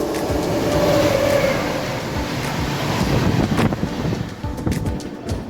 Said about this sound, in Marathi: Indore superfast express crossing